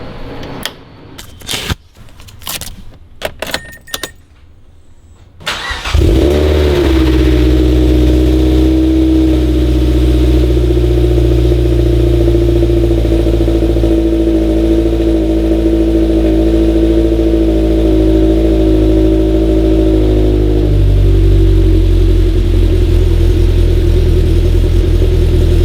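A few mechanical clicks and clacks, then a Mazda Miata NC's 2.5-litre engine cranks, catches and settles into a loud, steady idle that runs on without a break.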